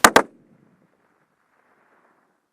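Two near-simultaneous rifle shots from Savage rifles fired at a 1,000-yard target, a pair of sharp loud cracks a fraction of a second apart, followed by a faint distant echo and then quiet outdoor air.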